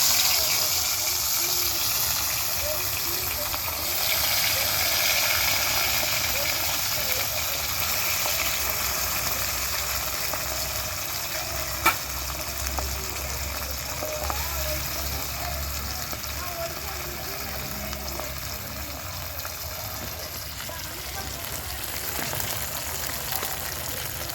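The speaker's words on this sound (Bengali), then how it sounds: "মাছগুলো ভাজা হোক তারপর তোমাদের দেখাচ্ছি" Pabda fish coated in raw oil, salt and turmeric frying in hot oil, giving a steady, close, broadband sizzling hiss that runs unbroken throughout with only small shifts in level.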